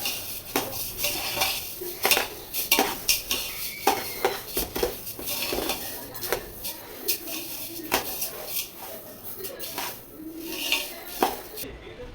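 Coriander seeds and turmeric being dry-roasted and stirred in a pan at home, with steady close scraping and metallic clinks of a utensil against the pan, continuing throughout with occasional faint talk.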